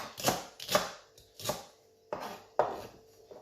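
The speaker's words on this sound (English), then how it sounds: "So I chop this also." Knife chopping spring onion and celery on a cutting board, five or six distinct close, crisp thuds at an uneven pace in a quiet kitchen, no talking.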